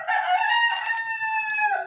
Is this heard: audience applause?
no